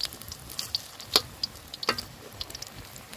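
Chicken leg pieces fry in about a kilo of oil at a forest camp, giving soft sizzling with scattered sharp pops and crackles, fairly close and without talk.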